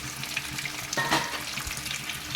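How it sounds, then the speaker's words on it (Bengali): Potatoes for Kashmiri dum aloo frying in a pan, a close, even sizzle with light crackling and one brief louder burst partway through; no voices. "আলুগুলো যতক্ষণ না লাল লাল একটু হচ্ছে ততক্ষণ আলুগুলোকে ভাজতে থাকব"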